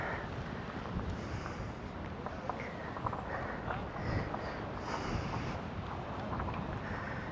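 Strong wind gusts across a seaside pier at Great Yarmouth in September, a constant rushing roar buffeting the microphone with no speech.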